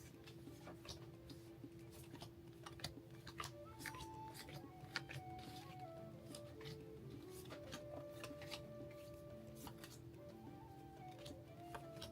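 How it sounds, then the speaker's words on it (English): A deck of game cards being shuffled during a tabletop card game, with repeated quick riffling and flicking bursts over a steady low background hum. "We shuffle the deck, and then we each draw 5 cards."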